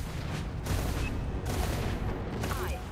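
Broadside cannons firing in the naval combat game Dreadnought, a series of heavy booming blasts in rapid succession amid continuous battle rumble, with voices heard over the action.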